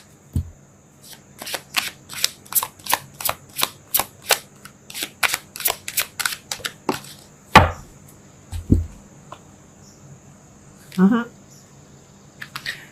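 A tarot deck gets flicked through in a quick even run of sharp card snaps, then there is a louder slap and a few scattered taps as a single card is pulled, in an otherwise quiet room.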